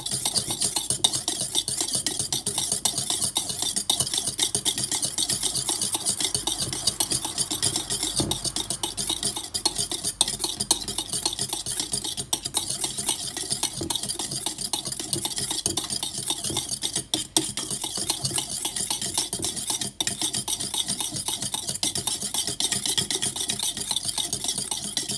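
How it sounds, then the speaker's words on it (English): Egg yolk being stirred by hand while oil drips in, whisking up a cayenne pepper mayonnaise at home; a steady, close scraping and clinking stir runs continuously for the whole stretch with no talk. "So you just continue to drop it while you're stirring"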